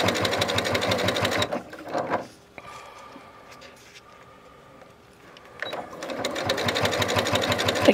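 A sewing machine top-stitches a wristlet bag in two steady, rapid runs, one at the start and one at the end, with a quieter pause between them.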